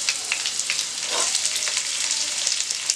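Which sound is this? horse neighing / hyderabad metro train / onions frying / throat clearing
onions frying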